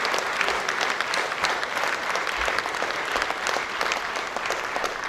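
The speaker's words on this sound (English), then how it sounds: "Let's keep the applause" Sustained audience applause after a talk by Professor Godwin Emmanuel Oyedokun, thick and continuous crowd clapping at an even, loud level throughout.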